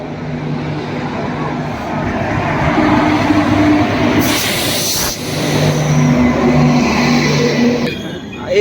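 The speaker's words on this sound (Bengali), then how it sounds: "1 নম্বর প্ল্যাটফর্ম পার করে এদিকে 2 নম্বর, আর ট্রেনও চলে এসেছে। তো ট্রেন আমাদের আসছে।" A train pulls into the second platform of a Kolkata railway station, its broad rumbling roar swelling loud and close, with a brief bright hiss midway and crowd murmur underneath.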